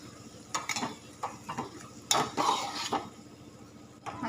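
Bean pod curry, a gravy vegetable of val papdi, being stirred in a pan with a spoon after ground masala paste and a little water go in: several soft scraping and clinking strokes with a faint sizzle underneath, close and moderately loud.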